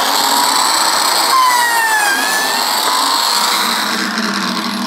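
Biscuit joiner (lamelleuse) cutting a slot in wood: a loud, steady high-pitched motor whine, with the blade's pitch dipping briefly as it bites into the timber, close and with no voices.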